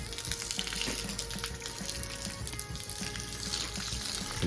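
Water sprays and hisses steadily against a patio surface, wetting it down before pressure washing; a continuous close splashing wash with no speech.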